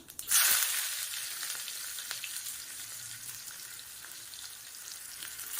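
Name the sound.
mustard seeds and shallots frying in oil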